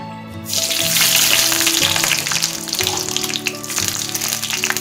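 Mustard seeds and urad dal spluttering in a little hot oil in a kadai, a sudden loud burst of crackling sizzle that stays dense and close, with faint clinks of a ladle on the pan.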